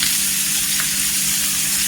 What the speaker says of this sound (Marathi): तव्यावर छान असा तेलावर परतून घ्यायचा